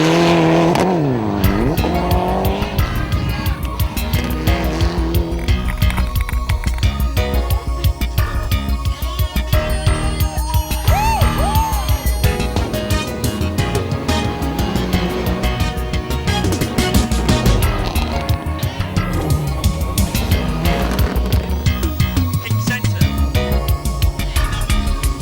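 A rally car runs the one-kilometer spectator stage beside the Bogoria Service Park in the 2012 KCB Biashara Banking Rally, its engine revving hard and shifting through gears with tire squeal, loud and continuous.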